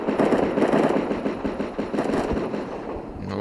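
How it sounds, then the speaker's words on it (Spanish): Rapid automatic gunfire from a faster-firing weapon in a zombie video game, a dense continuous burst of shots that stays loud for the whole stretch with no talk. "Voy a coger el otro arma, disparo más rápido."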